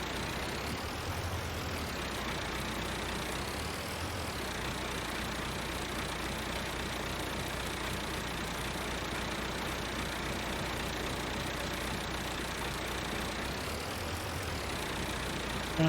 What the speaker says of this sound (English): for this little Massey Ferguson tractor.